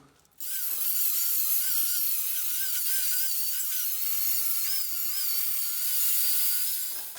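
An angle grinder fitted with a small abrasive disc strips old paint off a used square steel tube, a loud continuous high whine that starts abruptly, holds steady with slight pitch wavering, then winds down, heard alone.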